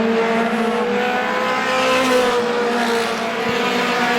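Race cars roar around the oval at Star Speedway during a Roadrunner feature, a loud, sustained, droning engine whine from several cars at once, steady and close with no voices.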